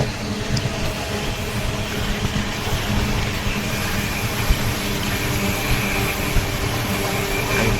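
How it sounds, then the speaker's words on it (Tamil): A loud, continuous rumbling roar of a train rolling past on a hillside near Bangalore, steady clattering and engine drone without pause. "பார்த்தீங்கன்னா ட்ரெயின் வந்து ஒரு மலையில் போயிட்டுருக்கு"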